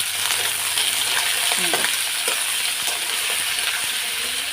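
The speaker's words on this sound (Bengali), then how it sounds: "আলুগুলো দিয়ে লাল লাল করে ভেজে নেবো আলুগুলো আমি" Potatoes frying until browned, sizzling steadily in a pan, with scattered scrapes and taps of a spatula stirring them throughout.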